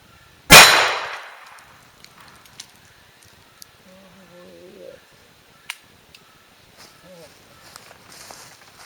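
A ROHM single action cowboy pistol loaded with light loads fires one sharp, loud shot at targets, followed by faint ticks and small handling noises.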